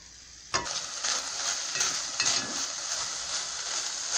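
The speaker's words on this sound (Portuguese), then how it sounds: "Agora eu vou deixar dar uma dourada neste franguinho, tipo uma cozinhadinha." Chicken pieces brown in a hot pan for stroganoff, a steady bright sizzle that starts abruptly as the meat hits the oil and continues evenly, with faint stirring scrapes and no talk.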